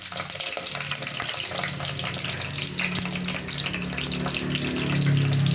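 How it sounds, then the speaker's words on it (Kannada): Green chillies drop into hot oil in a pan and fry with a loud, steady, rushing sizzle that swells slightly toward the end, close by and without voices. "ಎಣ್ಣೆ ಕಾದಿದೆ. ಮೆಣಸಿನ್ಕಾಯಿ ಹಾಕ್ತೀನಿ."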